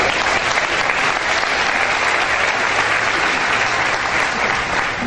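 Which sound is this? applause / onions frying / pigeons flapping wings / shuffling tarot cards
applause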